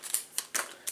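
Scissors cutting open a cello pack of baseball cards: four crisp snips in quick succession, close and fairly quiet, each with a brief plastic crinkle.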